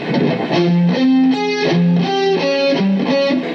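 A distorted electric guitar plays a riff of sustained single notes that step up and down, loud and close, with no voices.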